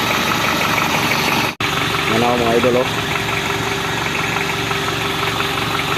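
An overhauled Hyundai Starex D4BH diesel engine idles steadily close by, a constant rumbling drone throughout with one brief dropout, while someone speaks briefly over it.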